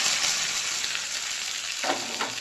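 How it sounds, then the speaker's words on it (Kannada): Mustard seeds and neem leaves sizzle in hot oil as a tempering for sambar and mosarode, a steady close frying hiss that briefly swells near the end, with no voices. "ಸಾಸಿವೆ ಪುಡಾಯಿ ಬಿಟ್ಟದು ಒಂಚೂರು ಬೇವುರೆಲ್ಲ ಒಂಜಿ ಮುಂಚಿಲ ಯಾ ಒಂದು ಒಗ್ಗರಣೆ ಕಾಯಿಂಡು"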